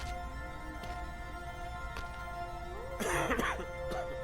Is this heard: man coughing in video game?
yes